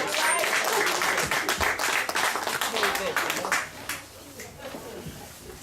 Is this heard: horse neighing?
no